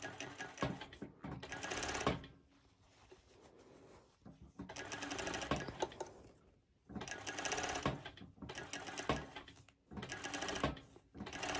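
A sewing machine stitches a garment cuff in several bursts of rapid, close mechanical whirring separated by short pauses, with no talk.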